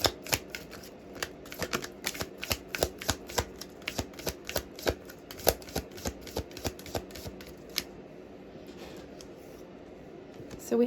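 A deck of tarot cards is shuffled again and again, giving a quick run of crisp riffling flicks and soft slaps that are close and fairly loud and sit over a quiet room before they stop near the end.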